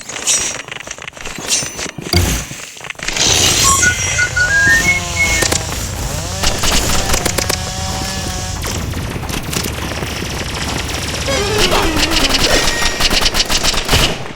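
Rapid bursts of video game gunfire, machine-gun rattles and single shots, keep up steadily for the whole stretch, loud and close, with short whistling tones and game effects mixed in.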